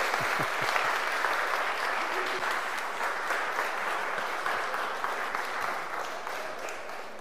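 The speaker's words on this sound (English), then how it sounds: "let's give her a big round of applause as a sign of our love." Steady applause from a church congregation during a service, a dense, even wash of many hands clapping that carries on for several seconds at moderate volume in a reverberant room.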